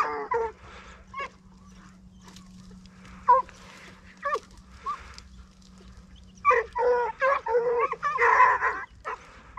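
Ariegeois hunting hounds bay and bark outdoors at some distance, scattered yelps at first building into a denser run of loud, overlapping cries toward the end.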